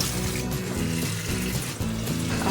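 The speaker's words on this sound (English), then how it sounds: "See how the sink is starting to kind of fill up a little bit, and it has kind of a yellowy color to it." Tap water pours steadily into a kitchen sink while cut-up raw chicken is washed, a continuous close rushing splash with a low tonal hum underneath.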